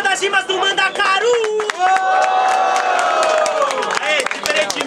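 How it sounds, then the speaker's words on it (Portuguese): A crowd at a rap battle fills the space with steady, dense cheering, shouting and scattered clapping, loud and close, with a rising roar in the middle. "Barulhos, barulhos pra quem gostou das rimas do Mandakaru!"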